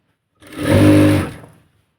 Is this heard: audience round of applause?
no